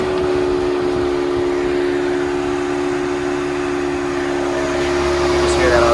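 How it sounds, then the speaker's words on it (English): Auxiliary electric cooling fan on a 2003 BMW 540i M-Tech, parked on hot concrete with the air conditioning off, whirs steadily as a faint constant hum under a low engine idle throughout. "So you can hear the auxiliary fan a bit."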